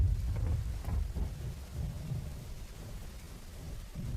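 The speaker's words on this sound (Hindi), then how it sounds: "दोपहर की गर्मियों में अक्सर काले बादल छा जाते हैं और मूसलाधार बारिश होने लगती है।" A summer afternoon thunderstorm brings a torrential downpour over open grassland. Low thunder rolls steadily beneath a constant wash of heavy rain, with no voices.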